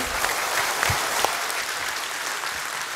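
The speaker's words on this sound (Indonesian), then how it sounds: "Tepuk tangan." Steady applause fills an audience hall at a university rector candidates' debate, dense and continuous throughout with no voices standing out.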